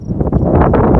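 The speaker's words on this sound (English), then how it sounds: "sorry for the wind" Loud, rumbling wind buffets the microphone in uneven gusts for the whole moment at a house construction site, with a faint high tone in the background.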